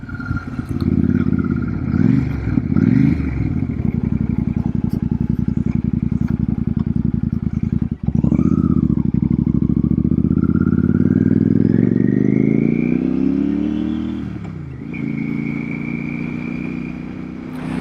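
Royal Enfield Super Meteor belt-drive motorcycle ridden at night, a steady loud engine drone with rising gear pulls, a brief cut near the middle and the revs easing off toward the end.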